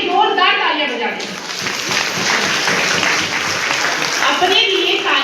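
An audience of women at a neighbourhood festival gathering in Delhi applauding loudly, sustained dense clapping that swells after a moment, with voices speaking over the start and end.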